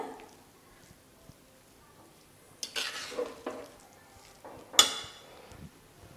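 A spoon scrapes and stirs through brinjal biryani rice in a pot, with soft scraping sounds and a sharp metallic clink near the end.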